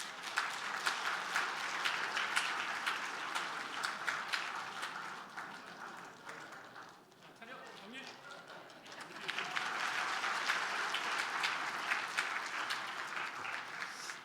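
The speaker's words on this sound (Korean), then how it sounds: "자, 우리 박수로" Steady crowd applause with dense clapping inside a church, dipping briefly in the middle before swelling again, with voices faintly underneath.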